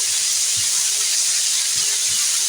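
Fish coated in salt and turmeric fries in oil in a home kitchen, giving a loud, steady close-up hiss of sizzling with faint low knocks of stirring underneath.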